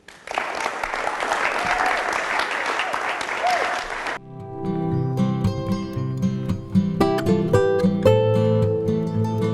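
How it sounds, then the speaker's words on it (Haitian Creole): Enthusiastic audience applause and cheering at a pageant-style show, loud and dense for about four seconds, then cutting off abruptly as music takes over. "Je vous demande de l'applaudir, s'il vous plaît."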